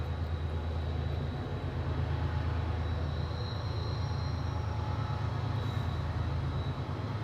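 A train rolls past near the Cesar E. Chavez National Monument, a steady low rumble and rattle of rail cars holding fairly loud and continuous throughout, with no one speaking.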